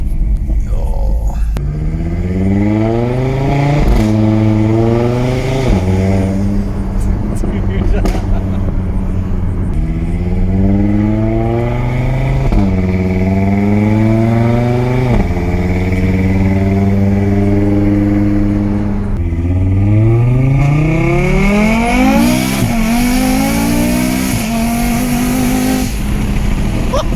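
Audi RS3 engine revving hard and accelerating, very loud and close, with repeated rising sweeps through the gears and a roaring exhaust, continuous with no talking over it.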